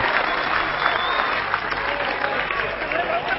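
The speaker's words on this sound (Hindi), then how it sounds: "पूरा श्रोता समुदाय तालियां बजाकर ये आदेश दे कि हम इस काव्य समारोह की शुरुआत करें" Audience applause at a Hindi poetry gathering, a dense, steady wash of many hands clapping that fills the whole stretch without pause, with some crowd murmur mixed in.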